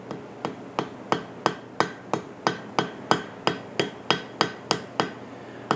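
Light hammer taps seat a forge weld on a hot billet, a steady run of about fifteen crisp, evenly spaced metallic strikes, close and moderately loud, with no talking over them.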